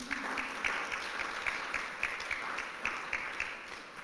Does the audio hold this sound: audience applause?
yes